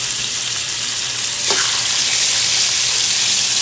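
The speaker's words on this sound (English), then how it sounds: "Get a nice sizzle in there." Pork chops sizzle loudly in a hot pan, a steady bright hiss that jumps as more meat hits the surface partway through.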